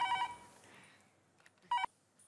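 A telephone rings in two short electronic bursts separated by a pause, fairly quiet against faint background noise.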